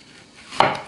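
A knife slicing through a vegetable onto a board, one quick crisp cut over a quiet background.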